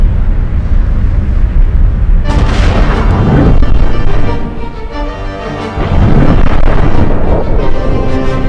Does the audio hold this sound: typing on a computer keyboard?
no